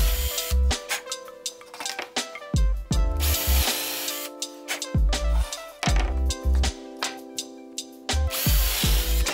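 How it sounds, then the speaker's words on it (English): A power drill countersinks screws into plywood rails in short, loud bursts of whining motor that rise and stop repeatedly, with brief pauses between each run. "I marked a center line down this strip of ply so I could countersink some screws into the bottom of the rails."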